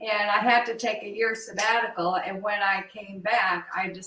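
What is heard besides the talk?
None of the usual background noises is heard.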